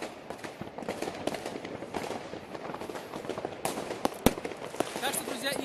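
New Year's fireworks in Germany crack and bang in dense, overlapping bursts after midnight, with sharp loud reports standing out among a continuous rumble of distant explosions, and a voice talking over them.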